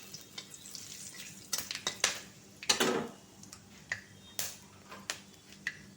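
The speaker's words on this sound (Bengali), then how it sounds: "এরপর আমি অ্যাড করে দিচ্ছি 4টে এলাচ, 4টে লবঙ্গ, অল্প দারচিনির টুকরো আর একটা শুকনো লঙ্কা, তেজপাতা এর মধ্যে অ্যাড করে দিচ্ছি।" Whole cardamom pods, cloves, a piece of cinnamon, a dried red chilli and a bay leaf crackle and pop in hot oil for a dhaba-style chicken and potato curry, with sharp close spits over a steady low sizzle.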